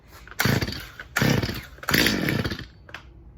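A Stihl MS230 chainsaw with the choke on and the chain brake engaged is pull-started three times in succession, each short, loud, close engine burst sputtering out before the next pull, with no talking.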